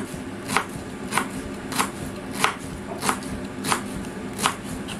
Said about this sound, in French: J'ai préparé les feuilles, je les ai lavées, je vais les émincer finement.